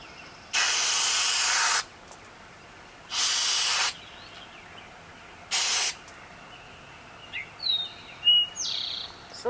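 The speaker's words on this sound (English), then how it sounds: "I'm going to use the carburetor cleaner" Carburetor cleaner sprays from an aerosol can in three hissing bursts, two longer and one shorter, close by, followed by a few faint chirps outdoors.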